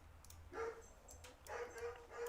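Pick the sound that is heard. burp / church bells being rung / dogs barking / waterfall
dogs barking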